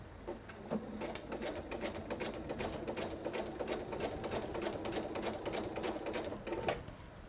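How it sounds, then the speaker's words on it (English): A sewing machine quilts a blue piece of a patriotic nine-patch table runner, running steadily and close for several seconds with a busy, even rattle of stitching. "the last piece of quilting I think we need is going to be right here on this blue piece"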